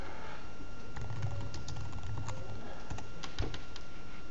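Typing on a computer keyboard, a quiet patter of close key clicks, a few in quick succession and one firmer press near the end, over faint room hiss.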